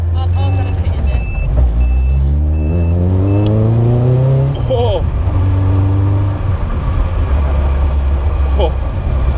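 A Caterham Seven 360R engine revs up close and loud in an enclosed space, climbing in pitch twice before dropping back to a steady idle, with a few electronic beeps over the top.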